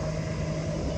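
A water scooter speeds through a bay in Greece, its engine a steady, fairly close drone that holds even for the whole second with no talk over it.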